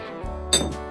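Glasses clink once in a toast over a meal of bigfin reef squid, a single bright, sharp ring close by after a low thud.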